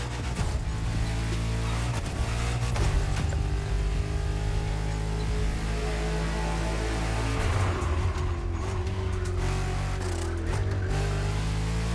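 In The Crew Motorfest, a Genty Akylone race car's engine revs and pulls through gear shifts with straight-cut gear whine, loud and sustained, with pitch rising and falling.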